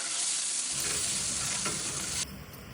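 A loud, steady hiss of masala with turmeric sizzling in a hot pan for mushroom gravy, with faint scraping as the mixture is stirred.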